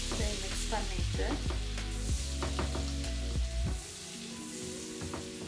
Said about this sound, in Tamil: இதோட சேர்த்து நான் உள்ளியையும் ஆட் பண்ணுறேன். கொஞ்சம் ப்ரௌனாக வரும் வரைக்கும் நாங்கள் இதை ஃப்ரை பண்ணுவோம்.